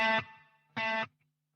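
Two short distorted electric guitar chords through a Quad Cortex with delay mix set very high, each trailed by a fading echo that lingers before the next strike.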